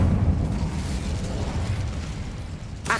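Incendio fire spell cast in Hogwarts Legacy, a roaring, rumbling burst of flame that holds steady for a few seconds, followed by a brief crackling flare at the end.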